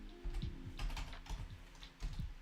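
Quiet typing on a computer keyboard by a programmer working near a microphone: irregular clusters of soft key clicks and taps at a steady working pace, faint and alone with no talk.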